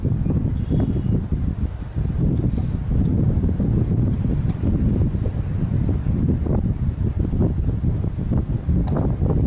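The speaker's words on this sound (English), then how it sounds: "wind just completely swapped directions." Strong, steady wind roars across the microphone at an outdoor long-range shooting spot, a loud, continuous gusting rumble with no break.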